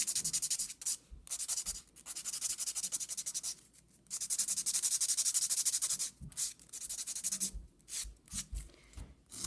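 Steady rasping strokes of a nail file shaping acrylic nails, close and fairly loud, in bursts of continuous scraping broken by short pauses.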